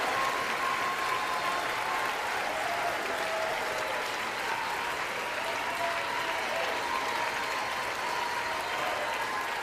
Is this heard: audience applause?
yes